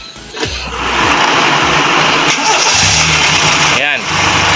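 A carbureted engine is cranked and catches on a hard start, then runs loudly and steadily, with people talking over it throughout.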